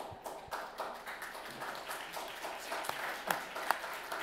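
Audience applause at the end of a perfume conference on chypre fragrances, a fairly quiet, scattered clapping from a room of listeners with a few sharper individual claps standing out.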